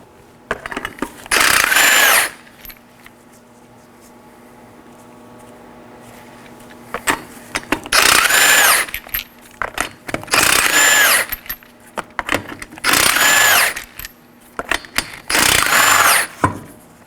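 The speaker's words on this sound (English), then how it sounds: "You're gonna wanna use a 21mm socket to remove these 5 21mm lug nuts." Bursts of loud buzzing from a power tool on a socket, about five separate runs of a second or so each with quiet gaps between them, removing the lug nuts from a front wheel of a 2013-2019 Nissan Sentra.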